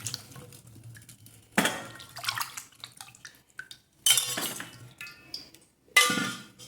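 Fruit for murabba being rinsed in clean water, with three loud bursts of splashing and sloshing mixed with light clinks of a pot or bowl, separated by quieter dripping and handling sounds; no one speaks.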